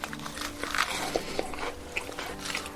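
Crispy fried urad-batter vadai being bitten and chewed, giving a run of small crunches and crackles over a steady background hum with a few sharper bites, heard close and without talking.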